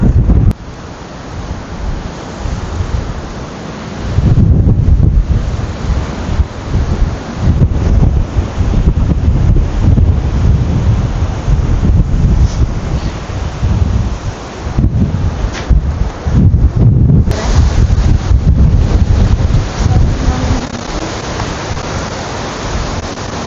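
Strong wind roars across the microphone in a continuous heavy buffeting rumble, with gusts swelling louder throughout and no voices.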